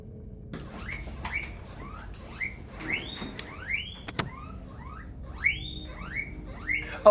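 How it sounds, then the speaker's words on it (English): Guinea pig squealing repeatedly, a series of high rising squeaks and whistles at uneven intervals, fairly faint and close over a low room hum with occasional clicks. "the sound you hear is the guinea pig screaming at me."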